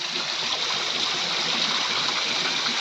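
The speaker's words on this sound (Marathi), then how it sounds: "हे असं थोडं थोडंफार पाणी भरपूर पाण्याचं वातावरण मस्त आहे कसं पडतंय पाणी" Water flows and falls steadily in a small outdoor stream, giving a continuous, fairly loud rushing splash close by with no voices.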